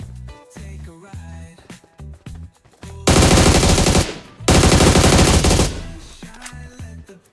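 Machine gun fire in the mobile battle royale BGMI: two long, loud, sustained bursts dominate the middle, with quieter game sounds and music before and after.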